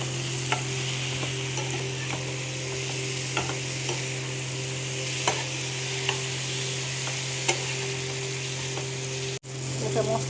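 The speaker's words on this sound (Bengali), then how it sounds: "এবার একটু মশলাটা কষিয়ে নেব" Spice paste of grated ginger, a splash of milk and Kashmiri red chilli powder sizzles steadily in a pan for a fish curry with ridge gourd, with scattered scrapes and taps of a spoon stirring it, no talk.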